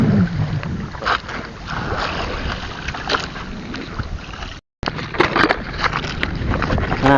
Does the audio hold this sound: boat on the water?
yes